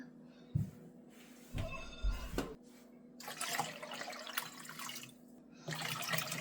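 Water runs and splashes into a kitchen pot for a batch of elderberry syrup, coming in separate pours with gaps between them, then a longer, steadier gush near the end.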